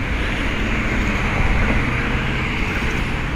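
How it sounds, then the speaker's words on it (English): Steady traffic on a main street, with buses and cars passing in a continuous, fairly loud roar and no clear single vehicle standing out. "Always on the main street, so I also hear the buses and cars."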